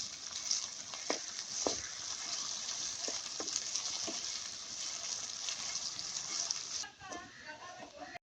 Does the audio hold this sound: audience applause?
no